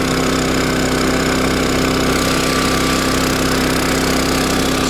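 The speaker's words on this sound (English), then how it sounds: "All right, so we got it running. I got it on high idle." Small engine held at high idle in a workshop project, a loud, steady droning hum with an even, unbroken tone and a faint vibrating buzz, close up and alone with no talk.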